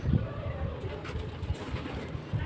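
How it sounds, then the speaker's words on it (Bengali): Pigeons in a loft, including Madrasi and Giribaj breeds and a male bird, give soft, low cooing calls in short repeated bursts close by, against faint background noise. "খুবই সুন্দর নর পায়রা"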